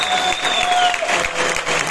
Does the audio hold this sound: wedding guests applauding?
yes